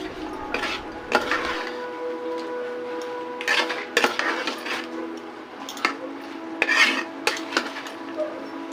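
A spoon scrapes and clinks against a metal pot of curry with turmeric in irregular bursts, stirring with occasional louder knocks, close up and without talk.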